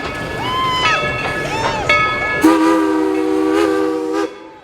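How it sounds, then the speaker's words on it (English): An amusement park train's horn sounds in long, steady harmonic blasts as it draws near at Dollywood, with rumbling machinery and faint voices in the background. "And here comes the train."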